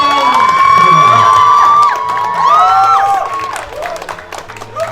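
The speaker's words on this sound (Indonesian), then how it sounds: "Tepuk tangan sebelumnya" An audience at a talk event cheers and applauds, with loud whoops and shouting voices sweeping over clapping in a crowded hall, then the cheering thins into scattered shouts and claps toward the end.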